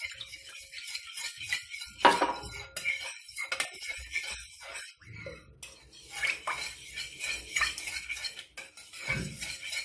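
A utensil scrapes and clinks through a mixture with half a glass of oil in a bowl, giving irregular metallic stirring scratches, fairly close and steady with no talk.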